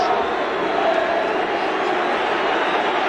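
Loud, constant crowd noise from a 1981 FA Cup match between Everton and Liverpool, a thick, unbroken stadium drone that may carry booing, staying steady for the whole stretch without any clear speech.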